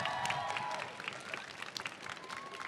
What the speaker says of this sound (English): Round of applause for him, guys.